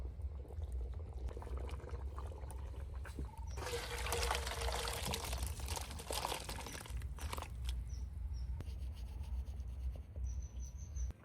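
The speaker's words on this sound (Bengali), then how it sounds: "মাংস রান্না তো হয়ে গেল, এবার ঢেলে নেব" Cooked meat is poured out of a cooking pot in one thick, wet, scraping pour lasting several seconds mid-clip, with a low steady hum underneath and a few faint clinks afterward.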